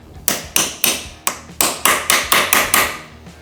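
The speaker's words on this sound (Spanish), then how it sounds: "voy a darle 2 martillos y a ver qué pasa" Hammer blows on a Gas Gas motorcycle part, struck to loosen aluminium nuts in a workshop, about eleven sharp metallic taps close by, evenly spaced at first and then quickening, each with a short ringing decay.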